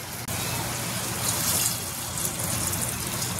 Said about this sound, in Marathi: गरम पाणी करून ठेवलेलं ते त्यामध्ये ओतायचं आहे